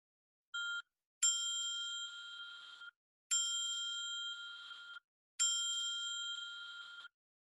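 A bell rings in four bright, metallic strikes: a short first ding, then three longer rings that each fade slowly, with silence between them and no talk.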